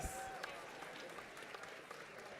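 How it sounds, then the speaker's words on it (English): Applause from a conference audience, a steady wash of clapping that holds for a couple of seconds and fills the room. "Can we give another round of applause to Mustafa and Jeff,"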